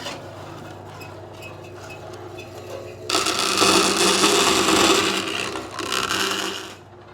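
An old wood bandsaw converted for metal cutting hums at idle, then bites into sheet metal with a loud, harsh rasping scrape that runs for several seconds, briefly dips, resumes, and stops.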